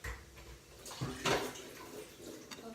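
Water poured into a bowl for dahi barhe batter, a short splashing pour that swells briefly and fades, fairly close and quiet.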